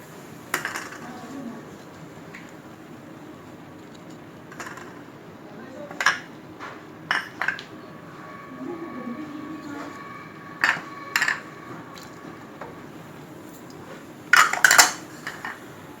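Fry masala being mixed into chicken drumsticks in a bowl gives scattered metallic clinks of a spoon against the dish, louder in a few clusters, over a quiet background.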